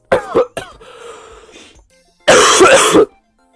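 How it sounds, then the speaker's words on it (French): A person coughs a couple of times, clears their throat briefly, then lets out one harsh, loud cough after a short silence. "Je vais tousser"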